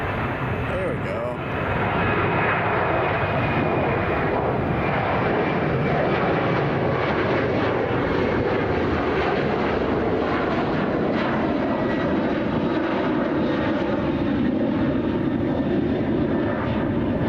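A Boeing 777 jet airliner at Chicago O'Hare airport gives a loud, steady engine roar that holds for the whole stretch, with people talking over it.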